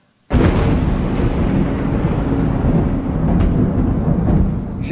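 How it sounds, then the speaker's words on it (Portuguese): A recorded thunderclap is played aloud over speakers during a church sermon, bursting in suddenly after a moment of quiet and then rolling on as a loud, sustained rumble. "eu pedi para eles pegarem o som de uma trovoada"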